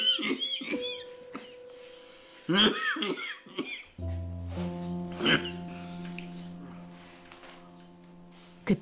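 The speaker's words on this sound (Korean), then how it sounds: "그때 또다시 시작되는 기침." A person with stage 4 thymic cancer coughs in several harsh, rough bursts, with quiet talk and a low electrical hum in a room.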